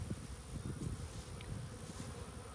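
Honeybees flying into their hive during a privet bloom, a steady, soft buzzing hum of many insects close by, continuous and low, with no talking.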